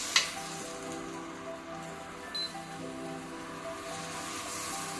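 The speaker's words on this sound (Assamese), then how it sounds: "মোৰ মছলাখিনি ভাজা হৈ গ'ল। এতিয়া মই দিম ৰাজমাহ আলু একেলগতে দিলোঁ।" Rajma and potatoes sizzle and fry in hot spices for a rajma curry, a steady crackling hiss at moderate level with one sharp clatter near the start.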